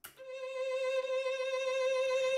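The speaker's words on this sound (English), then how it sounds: "It's called Solo Violin by Spitfire Audio" A single sustained bowed note from the Spitfire Audio Solo Violin sample library, bright and harmonically rich, held steadily and alone for about two seconds after a soft attack.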